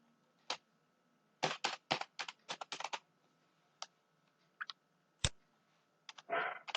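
Keys on a computer keyboard are typed in short bursts while the word computer is entered into a spreadsheet cell. The crisp clicks sit close in a quiet room, with pauses between clusters of keystrokes.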